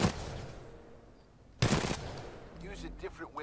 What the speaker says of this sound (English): Fine, we'll use pistols for now. That's a burst fire.